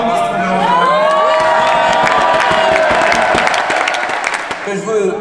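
A large crowd at a political rally in Paris cheers, whoops and applauds loudly and steadily, with shouts and voices mixed into the continuous roar for the whole stretch.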